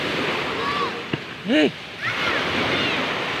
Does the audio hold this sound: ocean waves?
yes